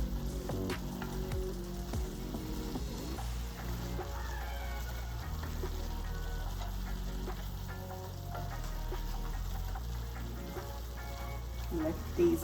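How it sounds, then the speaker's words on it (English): Steak and vegetables sizzle steadily in a hot pan for a Philly cheesesteak, an unbroken close-up frying hiss beneath a constant low background tone. "I just want to stir that up and let that simmer a little bit."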